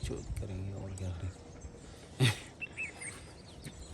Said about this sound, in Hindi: चिड़ियाओं की आवाज़ कितनी अच्छी आ रही है यार